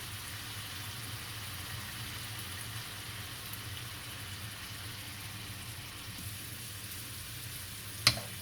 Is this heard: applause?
no